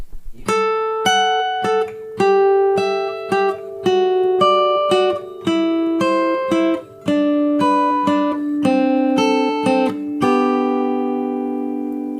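Slack key guitar notes plucked in a steady, even picking pattern on the top strings, each note ringing clearly, played solo and close, ending on a sustained chord.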